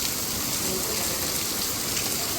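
Heavy monsoon rain in Punjab pours down in a steady, dense hiss, drumming on surfaces nearby with no pause and no voices.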